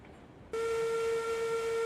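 A train in the Railroads video game starts rolling after its brakes come off: a sudden steady tonal whine with a faint whistle-like ring sets in and holds evenly over a running rumble.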